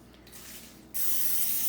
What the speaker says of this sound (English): y'all know I like that olive oil cooking spray.